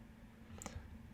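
A single soft mouse click presses Finish in Android Studio, one brief faint tick against quiet room hum.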